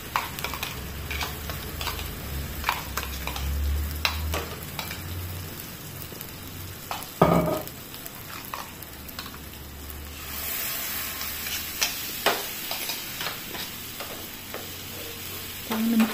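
A masala paste is stirred and roasted in a pan for a spicy bitter gourd dish, giving a soft sizzle with scraping strokes from a spoon and occasional clinks, one louder knock midway, without talk.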